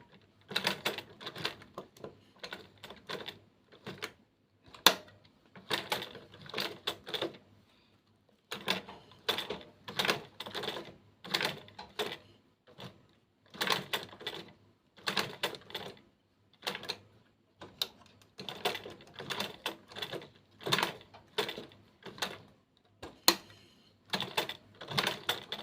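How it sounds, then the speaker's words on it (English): A sewing machine stitches in short repeated bursts with backstitching while making a bamboo bag handle. Brief pauses separate each quick run of rattling needle strokes, close and moderately quiet, with no talk. "I'm just going to drop and start sewing. So I'm going to backstitch."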